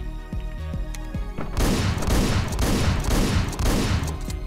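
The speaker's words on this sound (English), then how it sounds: "we shot each other at the same time" Gunfire in the Hotline Miami video game, heard as a dense, loud burst of rapid shots repeating in quick pulses for several seconds after a quieter, clicky opening, with no talk.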